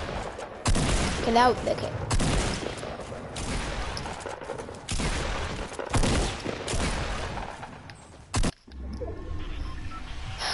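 Gunfire in a Fortnite-style battle royale video game, with bursts of shots and impacts coming in waves over most of the stretch, overlapping a player's talk and a brief loud hit near the end.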